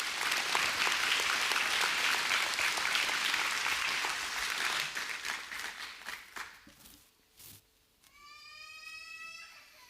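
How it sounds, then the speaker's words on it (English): A church congregation applauds warmly to welcome a couple, dense steady clapping for several seconds that thins and fades out, then a voice begins speaking at the end. "can we give it a round welcome and applause for Alex and Leilani Barrera"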